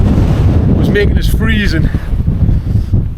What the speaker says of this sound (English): wind's whipping up